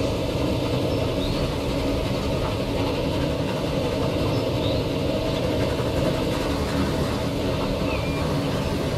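A train arriving in the video game Transport Fever 2: a steady, loud rumble of engine and rolling wagons holds unbroken throughout, with no pauses.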